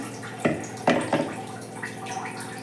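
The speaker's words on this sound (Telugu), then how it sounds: "ఇప్పుడు కావాల్సినన్ని వాటర్ యాడ్ చేసుకున్నాము" Water poured into a pan while cooking a tangy, spicy cluster bean curry: a few distinct splashes in quick succession, then quieter trickling and dripping, close and fairly clear with no talk.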